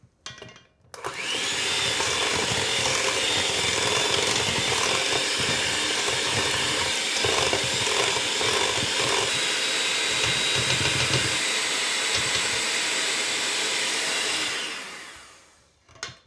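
Pumpkin dessert filling with a pinch of salt being mixed by an electric mixer, a loud, steady whirring drone running continuously for about fourteen seconds before winding down.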